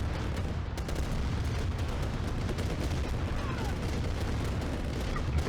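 Dense, continuous tank battle gunfire and explosions in Command & Conquer, a steady barrage of rapid shots and booms throughout with a voice faintly beneath.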